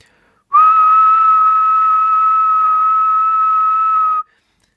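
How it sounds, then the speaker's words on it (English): One steady, clear whistle holds a single pitch for about four seconds, loud and close, then stops abruptly into silence. "So I'll do a demo for a whistle."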